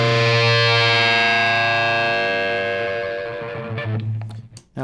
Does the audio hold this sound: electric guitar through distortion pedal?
yes